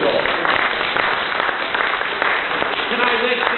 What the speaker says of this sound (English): But round of applause for him.